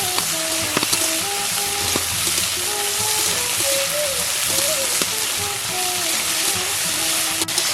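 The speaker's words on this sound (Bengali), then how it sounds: "লাল লাল করে ভাজবো।" Garlic and tomato fry steadily in a pan, a continuous close sizzle with faint stirring scrapes, alone without talk.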